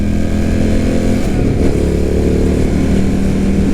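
An Indian FTR 1200 motorcycle on a test ride along a road, its engine droning steadily and close with a slight shift in pitch midway, continuous and loud with no talking.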